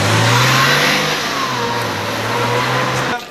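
A Porsche Boxster revs up loudly and close by, its mid-pitched engine note climbing and then holding steady for about three seconds before it cuts off abruptly.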